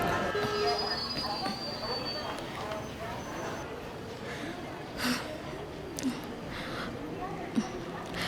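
A passenger train runs steadily with a dense rolling rumble, faint high wheel squeals and a few knocks, heard from inside among murmuring voices.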